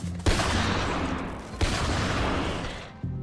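Sniper turrets fire in a modded Factorio base, giving three loud, sharp shots, each followed by a long rumbling roar that fills the gaps between them.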